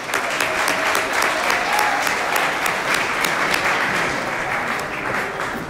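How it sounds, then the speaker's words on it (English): At a university gala, a sizable audience gives sustained, dense applause for the evening's sponsors. The clapping is loud and steady, with faint crowd murmur beneath it. "Let's give one more round of applause to our great sponsors."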